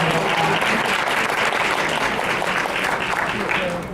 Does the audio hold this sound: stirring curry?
no